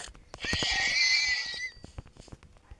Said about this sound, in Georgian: თან მაგარი ლამაზი ცხენი ვინახე